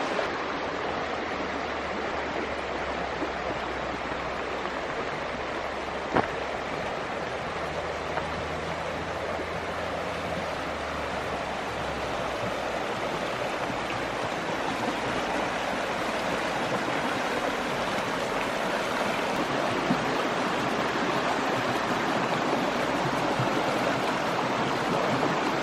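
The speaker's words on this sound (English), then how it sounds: "It's a nice little river." A small river flows steadily through a Blue Ridge Mountains forest near Asheville on a hike, a continuous broadband rush of water with no pauses, close and moderately loud throughout.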